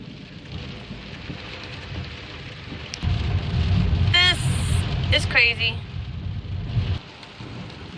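A storm of heavy rain and wind sweeps through, with a deep roll of thunder. A person talks excitedly over the steady downpour, which grows louder midway before easing.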